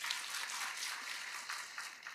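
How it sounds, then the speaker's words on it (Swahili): Crowd clapping again at a public security meeting in Siaya, an even, sustained patter of many hands heard from some distance, moderately quiet and unbroken, with no voices over it. "Makofi tena."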